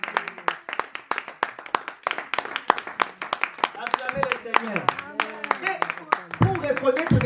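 A church congregation claps in worship, sharp rhythmic handclaps keeping a brisk steady beat while voices sing or call out over them, loud and close throughout.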